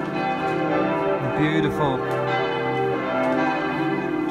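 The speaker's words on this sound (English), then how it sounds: "church bells." Church bells ring steadily in the town centre of Freiburg im Breisgau in southern Germany, a sustained tonal peal filling the street with a brief spoken remark over it.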